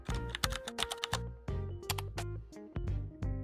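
Quick, irregular clicks of someone typing on a computer keyboard, close and distinct, over steady tonal music playing underneath.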